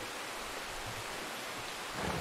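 Heavy rain and rumbling thunder in the video game Red Dead Redemption 2 make a dense, continuous downpour that swells slightly louder near the end, with no voices.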